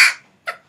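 Two short, harsh caws from a crow, one loud and close at the start and a second briefer call after a pause, with no talking.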